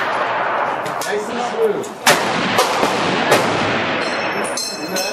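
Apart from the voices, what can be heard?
303 British rifle gunshots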